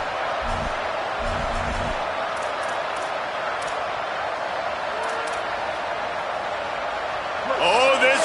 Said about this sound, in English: Oh, this crowd wants it.